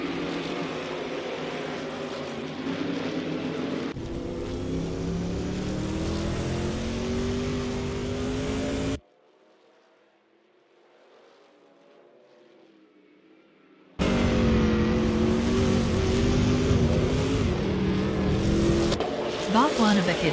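AI-driven Trans Am race cars lapping the Grindelwald circuit in a racing video game, with loud continuous engine roar and shifting revs, briefly dropping to near silence midway before the engines return at full volume.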